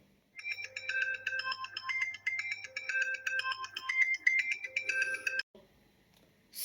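A synthesized phone ringtone called Circuito plays a bright, busy electronic melody of rapid stepping notes over a low steady drone, loud and continuous for about five seconds before cutting off abruptly.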